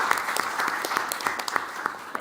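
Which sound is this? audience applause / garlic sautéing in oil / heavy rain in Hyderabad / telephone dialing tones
audience applause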